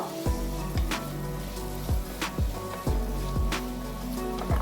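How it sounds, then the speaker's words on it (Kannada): Green chillies and tomatoes fry in hot oil, giving a steady close hiss and crackle broken by regular clacks of a utensil against the pan, with no talking. "ಟೊಮ್ಯಾಟೊನೂ ಅಷ್ಟೇ ಫುಲ್ ಮೆತ್ತಗಾಗೋ ತನಕ ನಾವು ಎಣ್ಣೆಯಲ್ಲಿ ಫ್ರೈ ಮಾಡ್ಕೋಬೇಕು"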